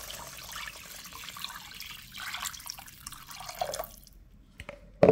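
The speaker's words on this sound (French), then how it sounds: "je vais rajouter 1 litre d'eau à l'intérieur" Water poured into a cooking pot after tomato paste has toasted, a steady trickling splash that runs for several seconds and ends with a few scattered drips, close and moderate in loudness.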